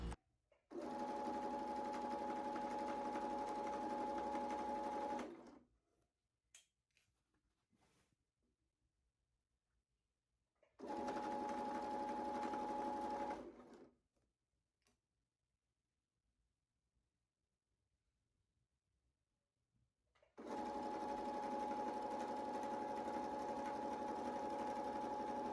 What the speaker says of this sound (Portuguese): passo uma costurinha de um pezinho de máquina aqui